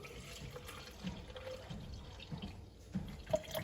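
Starbucks medium roast unsweetened cold brew coffee trickles and splashes into a measuring cup, a quiet, close pour with small drips and gurgles.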